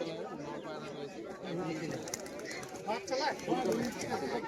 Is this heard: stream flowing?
no